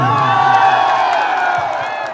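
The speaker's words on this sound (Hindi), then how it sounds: "एक जोरदार हल्ला करके भैया के जीत की खुशी के लिए ताली बजाइए" A crowd at a stage event in Bhagalpur cheers and claps continuously, a dense, loud roar of voices and applause with whoops rising through it.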